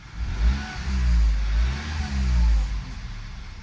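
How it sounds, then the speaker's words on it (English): A 2.0T Audi Q5 B8 engine with misfire and oil consumption problems idles steadily with a low rumble, its pitch gently rising and falling with slight surges, close and fairly loud. "it's been 13 minutes idling"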